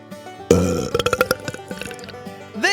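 A single loud, wet belch rumbles out with a gurgling, stuttering rhythm before trailing off, close up and alone.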